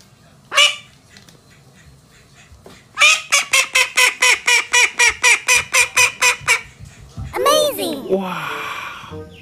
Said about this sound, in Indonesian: Wow, ini bebek,